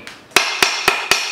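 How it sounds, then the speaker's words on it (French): A tinsmith's hammer strikes sheet metal four times in quick, even succession, sharp bright ringing blows close up, with no voices. "mais on va taper avec le marteau."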